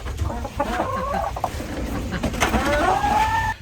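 Chickens on a homestead cluck and squawk steadily inside their coop, several birds close by with rising calls overlapping throughout.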